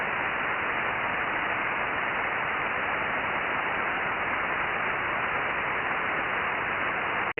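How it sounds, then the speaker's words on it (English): Steady radio band noise fills the 2-meter amateur band, a flat, unbroken hiss of white-noise static that holds evenly throughout, with no voices. "Just band noise, just white noise."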